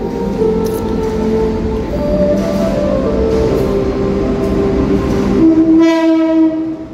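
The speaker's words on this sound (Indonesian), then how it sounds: "Kereta api Tawang Jaya Premium diberangkatkan dari stasiun Pasar Senen" The Tawang Jaya Premium passenger train, hauled by a CC 201 locomotive, departs Pasar Senen station with a continuous roar and rhythmic rail clatter, then a loud horn blasts near the end.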